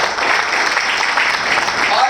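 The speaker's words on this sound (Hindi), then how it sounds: "जोरदार ताली।" A large seated audience at a business training event in Puri breaks into loud, dense applause, steady and sustained throughout with no pauses.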